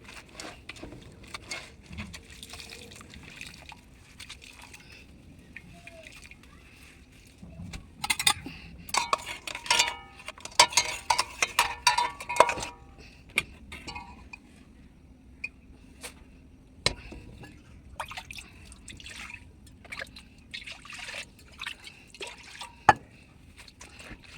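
Fish are washed in water in a bowl, with quiet, intermittent splashing, dripping and occasional clinks of the container, busiest in the middle stretch.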